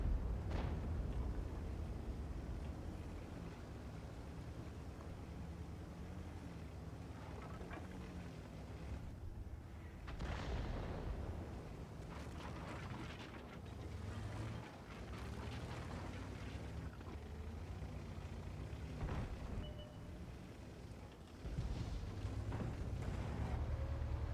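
Tank cannon fire and shell explosions in World of Tanks with a T-62A, several sharp booms spaced across a constant low engine rumble and mechanical clatter.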